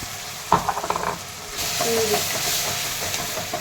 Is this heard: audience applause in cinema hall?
no